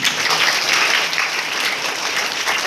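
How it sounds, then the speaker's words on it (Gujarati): Schoolchildren clapping together at a school enrollment festival, dense, even applause from a large group, loud and close, sustained throughout without talk. "ફરી એકવાર તાળીઓ પાડીશું આપણે."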